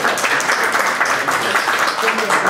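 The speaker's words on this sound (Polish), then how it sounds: "oklaski." Audience applause closing a Polish book talk with guest Roman Graczyk, a steady dense patter of clapping from a room of listeners, moderately loud and continuous for a few seconds.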